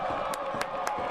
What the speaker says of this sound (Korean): 함성이 쏟아져 나오는 대구